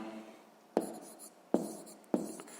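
Pen strokes on paper during a sixth-grade maths exercise: three quick, sharp scratches spaced under a second apart, close and quiet, no talking.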